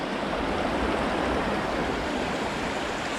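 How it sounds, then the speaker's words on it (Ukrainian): A flowing trout river in steady rushing water noise, broadband and constant, close and moderately loud, with no voices. "Ось така красива річка."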